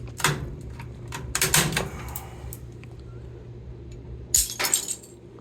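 Brittle plastic from a Honeywell humidifier snapping and shattering like glass, with three sharp cracking bursts separated by pauses over a steady low hum.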